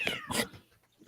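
A cat lets out a short, loud meow, quickly followed by a second yowl, close by and alone against a quiet room background.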